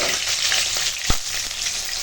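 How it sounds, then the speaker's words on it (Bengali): Fish frying crisp in hot oil, a steady loud sizzle with one sharp pop and a faint stir, no talk. "এখন মাছ ভাজা হয়ে গেছে আর তুলে নেব এরকম কড়া করে মাছ ভাজা খাওয়া হবে আজকে"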